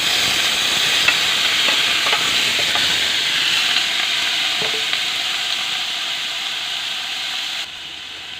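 Tomatoes sizzle and fry in a hot pan after garlic and onion, a steady loud crackling hiss with occasional stirring clinks throughout, easing slightly toward the end.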